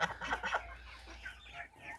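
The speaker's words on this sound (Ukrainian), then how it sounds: "Ось курочка." A young hen, a white Orlov-Maran cross chick, clucks in a series of soft, close calls over a low background hum, with no talking.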